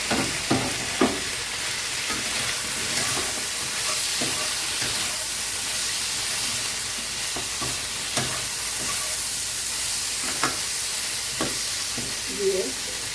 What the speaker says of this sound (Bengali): এখন আমি ডালের বড়াগুলো দিয়ে দেবো